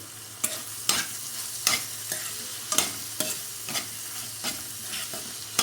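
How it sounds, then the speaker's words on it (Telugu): Chopped green chillies and palak paneer samosa filling fry in a pan, a soft steady sizzle broken by regular sharp scrapes of a spoon stirring, about once every half second to second. "ఇదంతా కూడా కొంచెం మగ్గే వరకు మనం ఫ్రై చేసుకోవాలన్నమాట."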